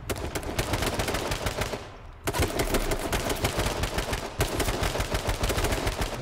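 Loud, continuous automatic gunfire from the video game H1Z1 rattles almost without pause, with a brief dip before the barrage resumes at full strength.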